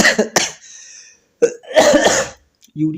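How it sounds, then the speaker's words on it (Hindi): Several harsh coughs, close and fairly loud, come in short bursts separated by brief pauses, with a throat-clearing sound near the end. "गले में बहुत मतलब खांसी आ रहा है"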